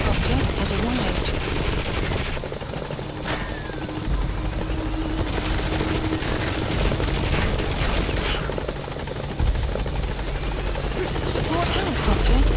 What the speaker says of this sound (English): The support helicopter has arrived.